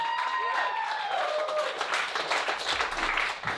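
Comedy club audience applauding and cheering for a stand-up comedian, dense clapping with whoops and shouts layered on top, lively and close throughout.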